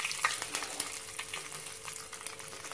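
Cinnamon and cloves, lightly ground, sauté in hot oil for a white peas kurma, giving a quiet, steady sizzle with faint crackles and a few light pops, with no voices.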